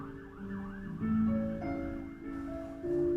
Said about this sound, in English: If you heard that siren